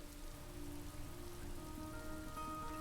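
Steady rain in the video game Road 96, a soft, even patter falling on surfaces with a faint tonal game hum running underneath, continuous and moderately quiet, with no voices.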